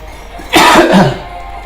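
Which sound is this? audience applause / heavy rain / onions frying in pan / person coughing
person coughing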